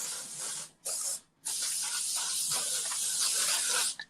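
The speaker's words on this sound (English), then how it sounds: "So I'm going to use Undone Texture Spray, which is this." Hair texture spray sprayed from an aerosol can onto hair in three close hissing bursts, two short ones followed by a longer sustained spray.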